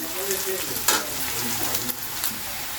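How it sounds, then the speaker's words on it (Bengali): Onion and green chili frying in a pan while being stirred repeatedly, giving a steady sizzle with a few sharp scrapes of the spatula and faint background voice. "পেঁয়াজটা বারবার ধরে নাড়তে হবে যাতে পেঁয়াজ লঙ্কাটা খুব লাল হয়ে যায় এই জন্য আমি বারবার ধরে নাড়ছি"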